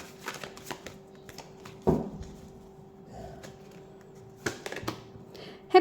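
Tarot cards are shuffled close by in scattered bursts of riffling, soft slaps and taps, separated by quieter pauses, with a faint steady hum underneath.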